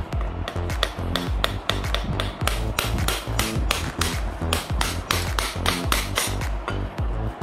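Repeated sharp taps seating the rotor of an EPC Typhoon 18-inch industrial fan into its housing, a quick irregular series of close, loud metallic knocks with no voices.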